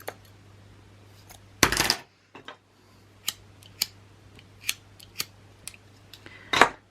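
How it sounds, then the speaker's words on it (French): Scissors cut a piece of ribbon in two for a handmade album, with two short crisp snips several seconds apart, close and clear against quiet, and light ticks and taps in between. "Je coupe en deux."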